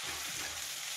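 Cumin seeds sizzle in hot oil in a pan, a steady dense crackling hiss with no voices.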